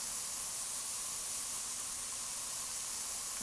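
Spray paint can spraying in Spray Paint Simulator, a steady bright hiss held continuously throughout, even and fairly loud with no pauses.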